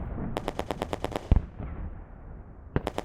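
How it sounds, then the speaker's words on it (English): Rapid bursts of automatic gunfire crackle through a cinematic Kill Team tabletop battle between Tau and Death Guard, a tight volley of shots, a heavy single blast, then another short burst, fairly loud and dry with no talk. "Shade Strain vaulted into position and fired at the advancing fighter"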